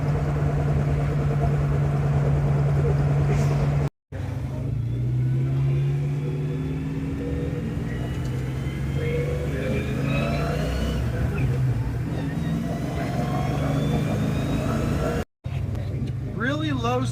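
A Mustang rolls along at very low speed, its engine and drivetrain humming steadily while the rear axle makes a repeating rhythmic whooping sound, with someone talking over it.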